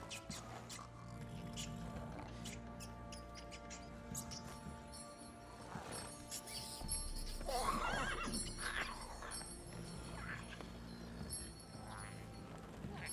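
In The Witcher 3, a horse whinnies and snorts amid faint hoof clops and ambient game sound, the neigh rising midway through while someone speaks quietly at times.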